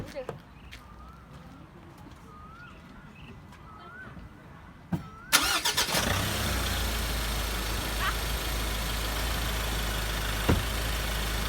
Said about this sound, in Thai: ต้องติดเครื่องกุญแจ